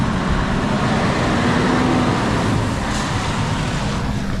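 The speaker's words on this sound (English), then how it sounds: "Dan is gonna get a truck out of there" A Scania V8 truck pulling out of a repair workshop, its engine a steady broadband rumble held at a loud, close level throughout with no gaps.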